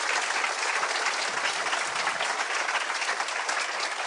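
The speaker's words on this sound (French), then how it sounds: "je pense qu'on peut l'applaudir" Steady, dense audience applause at a French business conference on corporate engagement for the positive economy, even and sustained from start to finish with no talking over it.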